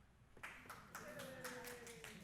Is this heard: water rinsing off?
no